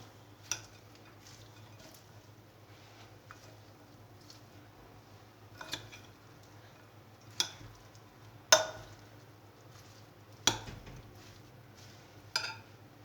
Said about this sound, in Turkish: Şimdi hepsini karıştırıp limonunu ekleyeceğim.